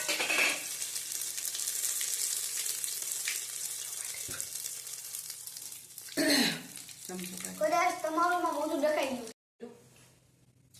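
Whole spices such as cloves, black pepper, star anise, cinnamon and mace, along with curry leaves, crackle in hot oil for a Gujarati mixed vegetable dish. The sizzle is steady with bursts of sharper spitting, and a voice speaks over it toward the end.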